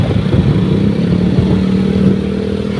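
A motorcycle engine idling and revving up close, a loud steady rumble with a rising, slightly rattly drone; no talking.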